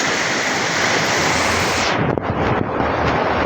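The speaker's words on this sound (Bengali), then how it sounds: "কীভাবে বৃষ্টির পানি নামে দেখছেন।" Rainwater pours steadily down a large drain channel beside flats and houses, a loud, continuous rushing wash that drops back slightly after a couple of seconds, with a few faint knocks.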